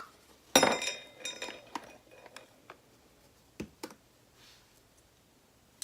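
A metal teaspoon clinks and taps against containers while cinnamon is measured for Instant Pot rice pudding, with one loud clatter followed by several lighter scattered clicks in a quiet kitchen.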